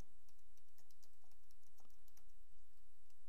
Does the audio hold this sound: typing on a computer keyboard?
yes